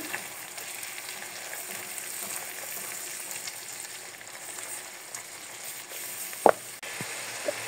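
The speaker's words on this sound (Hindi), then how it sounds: "इसको भी हम प्याज के साथ अच्छी तरह फ्राई कर लेंगे।" Garlic paste fries with onions in hot oil for a fish curry, a steady close crackling sizzle that holds throughout, with one sharp utensil clink near the end.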